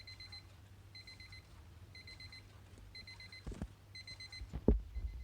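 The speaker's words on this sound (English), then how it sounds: "alarm is working" A new alarm clock rings in short repeated bursts of high electronic beeps, evenly spaced, fairly quiet over low hum, with a couple of sharp knocks near the end.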